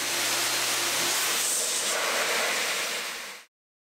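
Wheel cleaner being blown or sprayed off a car wheel during a wheel cleaner comparison, a steady loud broadband hiss of air or water running nearly four seconds, then cutting off abruptly.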